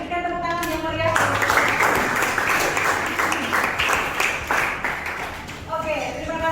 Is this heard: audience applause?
yes